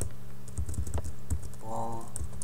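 Someone types a name on a computer keyboard, a quick irregular run of close, quiet key clicks, with a faint tonal hum entering near the end.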